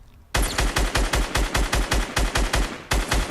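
Rapid automatic gunfire in the video game Fortnite, a loud close burst of about fifteen evenly spaced shots that cuts in abruptly and runs nonstop to the end.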